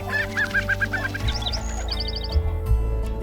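Prairie chickens on ranch land give mating calls during their dance, a run of rapid hooting notes followed by higher clucks and whistles, over a low steady rumble.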